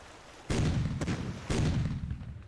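Artillery fires in the wartime strategy game Panzer Corps: two heavy booms about a second apart, each with a deep rumbling tail, and no voices.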